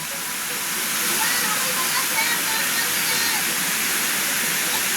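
A waterfall on a farm lot in Calauag, Quezon, a steady broadband rush of falling water, close and constant, with a voice faintly beneath the roar.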